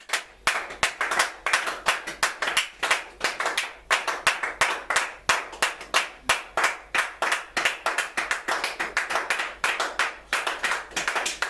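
A church congregation at worship clapping in steady rhythmic unison, sharp repeated claps filling the whole stretch with a brief pause partway through.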